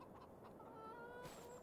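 Soft clucking of chickens on a farm in Farming Simulator, a few short muffled clucks under steady ambient hiss, fairly faint.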